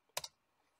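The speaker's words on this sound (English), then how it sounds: "I'm going to type the command MD, which is make directory, and I'm going to type in WINSTALL" A few quick keystrokes on an IBM ThinkPad 390 laptop keyboard while a DOS command is typed, two close, crisp clicks in a brief burst and then quiet.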